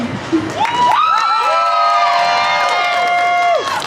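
At the Freak Show stage during Halloween Haunts at Canada's Wonderland, a loud, drawn-out whooping cheer rises and holds over crowd noise, sliding up at the start and dropping away near the end.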